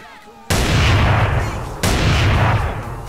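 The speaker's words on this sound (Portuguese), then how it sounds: "Vamos ver se eu consigo dar um tiro a queima-roupa aqui" Two loud point-blank gunshots in GTA San Andreas with a ragdoll animation mod, each a sudden heavy blast with a long booming decay, the second about 1.3 seconds after the first, with no talking.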